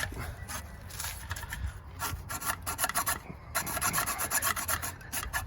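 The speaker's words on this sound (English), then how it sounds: "You could use this hacksaw here and, you know, just saw them out." Hacksaw cutting out plastic grille pieces on a 1999 first-generation Toyota Tacoma, with quick, rhythmic rasping strokes close up that continue for several seconds with no talking.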